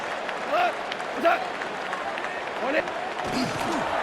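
Crowd applause in the Madden 26 American football video game, a soft rolling swell of clapping and cheering in a stadium, with a commentator's voice over the top.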